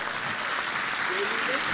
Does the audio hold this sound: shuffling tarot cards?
no